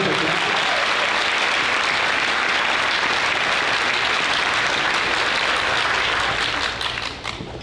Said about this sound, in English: So round of applause for all of our solo ensemble.